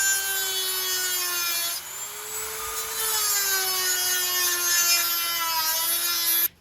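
Small power tool with a thin cutting wheel grinding a slot into the head of a loose, stripped screw, a steady high whine held near and loud for several seconds with a brief dip partway through.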